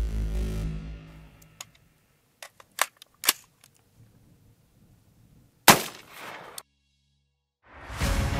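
A short-barreled 8-inch AR upper in .300 AAC fires a 125-grain Speer TNT round into 10% ballistic gelatin at an outdoor range, one sharp loud crack with a short tail, after scattered clicks and handling noises, then a rustle at the end.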